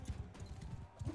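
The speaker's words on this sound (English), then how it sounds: "Are we riding damn horses?" Horse hooves gallop in the video game Mount & Blade II: Bannerlord, a faint rapid run of soft rhythmic thuds.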